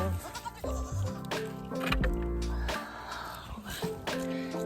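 Goats bleat repeatedly nearby, loud, wavering calls overlapping one another in a lively outdoor scene.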